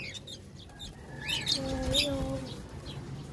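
Pale Sex Link chickens in a pen give soft, faint chirps and short calls over a quiet background.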